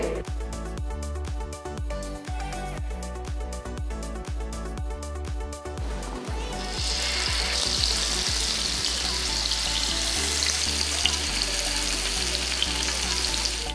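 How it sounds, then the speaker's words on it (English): Paneer skewers cook in a little oil on a hot tawa. Rhythmic clicks and scrapes come first, then a loud, steady sizzle that swells and holds until the end. "I'm going to tawa fry the paneer skewers."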